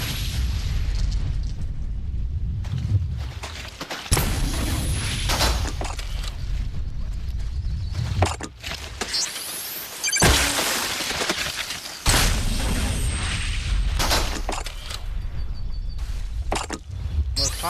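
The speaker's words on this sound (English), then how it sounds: "Get out the thundergun." Heavy weapon blasts and explosive booms fire repeatedly from a thundergun in the VR game BONELAB as zombies are destroyed, with loud bursts and shattering crashes about every few seconds, broken by brief quieter gaps.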